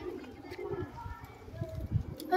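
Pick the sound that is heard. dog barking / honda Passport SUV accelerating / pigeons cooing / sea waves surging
pigeons cooing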